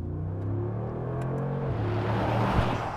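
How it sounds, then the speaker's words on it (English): A Mercedes-AMG G63 SUV from 2019 accelerating at full throttle, its deep engine rumble loud and close, pitch climbing gradually through a steady pull with no talk over it. "Flooring the throttle in this thing,"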